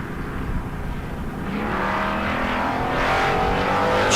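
Drag race cars launching at a bracket race, including Chris Citro's Mustang, roar loudly and build steadily in a sustained rising engine note, with no talk.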